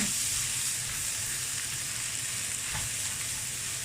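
Chicken pad see ew with dark soy sauce stir-fries in a hot pan, a loud, steady close sizzle with faint scraping of stirring throughout.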